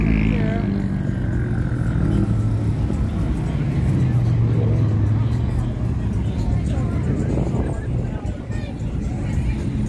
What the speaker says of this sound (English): There's a stoplight again, so like there's a lot of traffic here.